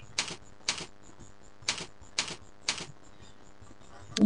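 Keys tapped on a computer keyboard, about five separate soft clacks spaced roughly half a second apart, close by and fairly quiet over low room hum, with no talking.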